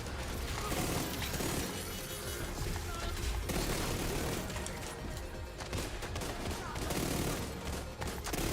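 Automatic rifle fire from The Division 2, a 75-round magazine emptied in loud, sustained rapid bursts that barely pause, dense and close throughout.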